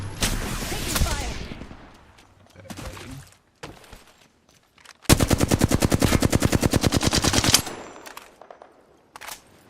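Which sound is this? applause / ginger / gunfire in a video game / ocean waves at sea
gunfire in a video game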